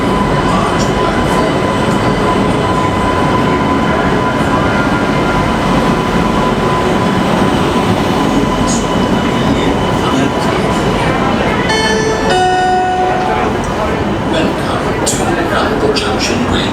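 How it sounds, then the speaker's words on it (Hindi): An Intercity Superfast Express train rolls into a railway junction platform in India, a loud continuous rumble with brief brake squeals and horn-like tones partway through, while a person talks nearby. "आई गेस ट्रेन आ चुकी है, शायद इंटरसिटी है, ट्रेन आ चुकी है"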